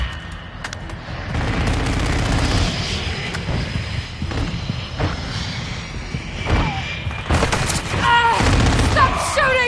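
Sustained automatic gunfire in a modern military shooter game, steady and fairly loud for most of the stretch, with bursts of sharper shots and game radio voices near the end.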